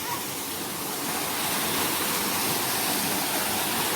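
Mandayao Waterfall in Negros Occidental, Philippines, gives a steady, loud, full-bodied rush of falling water, continuous and close, with no voices over it.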